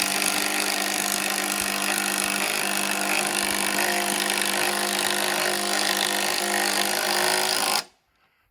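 A DeWalt 20 volt impact driver running continuously for about eight seconds while mounting deck handrail posts, loud, buzzing and rattling without a break, then cutting off abruptly.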